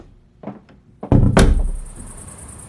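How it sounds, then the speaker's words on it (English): A door is opened, with a couple of soft handling knocks followed by a heavy close thunk and a sharp clatter that rings off into a hum. "Bradley, grab the door."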